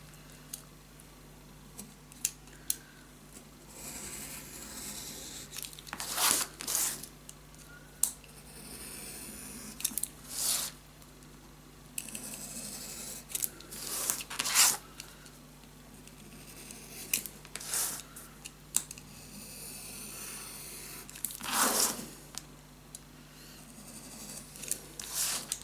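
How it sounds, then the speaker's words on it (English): Scissors snipping out the inside of a paper mini album page, a run of crisp, close cuts coming in irregular bursts with quiet pauses between them. "I'm also gonna cut the inside out."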